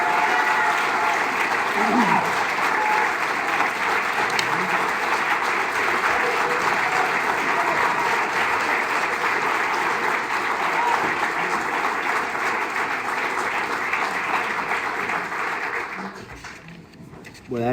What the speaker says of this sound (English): I want everybody to give Greg a really big round of applause for the support that he's given